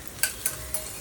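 Stuffed bitter gourd (karela) fries in a pan with a soft, low sizzle, broken by three brief, sharp bursts spaced evenly apart, like stirring or turning, with no voices.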